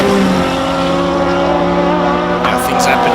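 A 2003 WSR Super Renault race car drives at the Simola hillclimb, its engine a steady, loud drone throughout with harmonic tones, joined near the end by a brief burst of higher, rasping noise as it passes.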